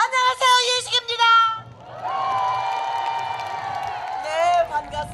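Audience at a trot music concert shouting a loud greeting in unison, a long sustained chorus of many voices rising and holding together, preceded by a single speaker's voice, close and loud.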